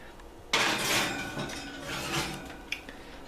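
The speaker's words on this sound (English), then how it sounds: "just pop it in the oven" A casserole dish of Monterey chicken is set into a kitchen oven with a sudden clattering knock of bakeware on the rack, followed by scraping and a couple of small clinks against the metal, close and fairly loud.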